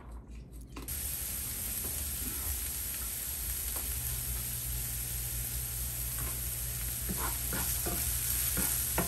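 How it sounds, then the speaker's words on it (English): Onions sautéing in a pan on the stove, a steady close sizzle with repeated stirring scrapes and taps throughout, no talk over it. "we're going to give the onions a stir and get the corn in"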